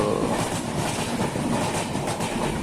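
A train rolls past nearby with a continuous loud rumble and rhythmic clickety-clack of wheels on the rails.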